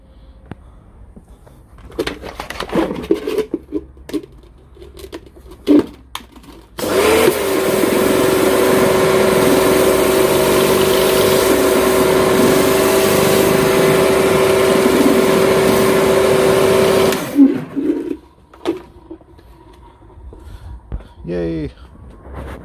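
Repaired Karcher pressure washer with a fixed internal leak starts up and runs with a steady, loud motor drone and high whine for about ten seconds, then stops abruptly; people talk before and after.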